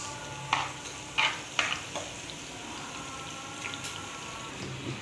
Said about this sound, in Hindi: अब इसे मैं गोल्डन फ्राई कर फिर उसके बाद मैं इसमें दाल में तड़के के लिए डालूँगी